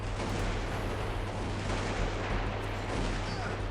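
Battle gunfire in the western video game Outlaws 3: Bounty Hunt, a steady wash of loud, dense shots and rumbling blasts with a low constant drone beneath, no distinct pauses.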